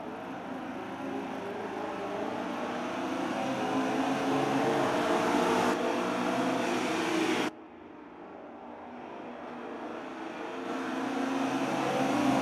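Mini race cars accelerate together at a night race start, a loud blended engine roar building steadily, then cutting abruptly and swelling again as the field passes.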